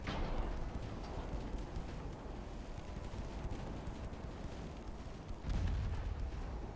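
Naval gunfire in Ultimate Admiral Dreadnoughts: a steady low rumbling bed of distant heavy guns, with a louder booming blast near the end that rises over the continuous roar.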